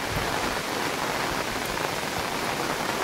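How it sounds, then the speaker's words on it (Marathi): Steady rain falls in a rural village, a dense, even hiss of drops on surfaces that stays loud and unbroken throughout. "हे असं असतं ग्रामीण भागातले पावसाचं स्वरूप"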